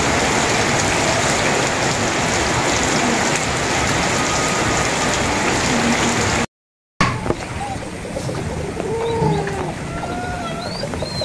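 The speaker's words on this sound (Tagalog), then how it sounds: "Naulan po dito po sa amin." Heavy rain pours in a steady, loud hiss, cuts out briefly, then carries on more softly while people speak nearby.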